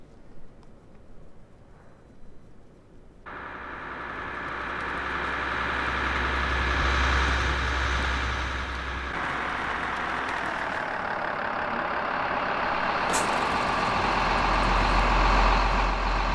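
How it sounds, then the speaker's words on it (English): A baggage truck engine idles and revs at a Geneva airport in Microsoft Flight Simulator 2020, its steady diesel rumble starting abruptly, swelling louder and continuing without any talk. "You've got a baggage truck parking in the safe area with the engine there, you can hear."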